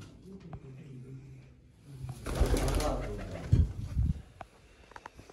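Pigeons coo softly in low, rounded murmurs, with a burst of rustling or wing noise midway and someone speaking nearby.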